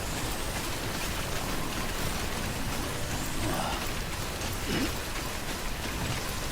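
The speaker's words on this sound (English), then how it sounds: "it's slippery out here in the rain" Video game rain pours down steadily outdoors, a dense hiss of drops on the ground with a faint low rumble beneath, constant and loud from start to end.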